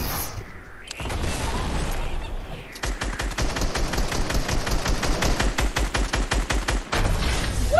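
Video game gunfire rattles in fast automatic bursts, a short burst first, then a long, sustained, rapid stream of close, loud shots with a brief break before the finish.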